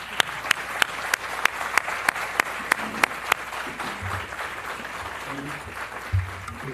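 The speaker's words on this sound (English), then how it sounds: "Let's give a round of applause to our speakers and moderator." Applause from a seminar audience after speakers and a moderator, heard as a room of sparse, fairly close hand claps at a brisk pace that thin out and fade after a few seconds into quiet room noise.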